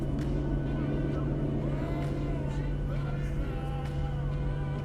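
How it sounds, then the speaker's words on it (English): Boeing 737-800 jet engines in a flight simulator game drone steadily during takeoff, with a constant low hum and tonal whine at moderate volume beneath radio chatter and talk. "Very nice engine sounds there."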